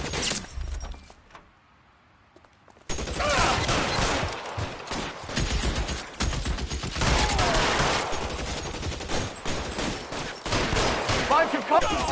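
Shootout in L.A. Noire, a loud burst of rapid gunfire after a brief quiet gap, then sustained shots and crashes under some game dialogue.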